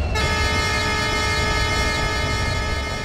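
A WDP4 diesel locomotive horn sounds in the Indian Train Sim 24 game, one loud, steady, sustained blast that holds from start to finish over a low rumble.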